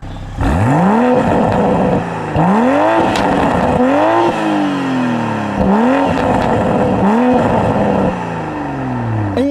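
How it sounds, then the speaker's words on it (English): A 2021 Toyota Supra in sport mode revs hard through repeated gear pulls, its exhaust note rising and dropping again and again in loud, close bursts, with no talk over it. "one important change you do get in sport mode is to the exhaust note"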